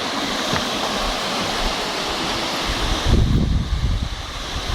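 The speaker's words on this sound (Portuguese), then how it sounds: "Tem a cachoeira do Buriti, ó." The Buriti waterfall in Chapada Imperial, a loud continuous rush of falling water, close and unbroken, with a heavier surge toward the end.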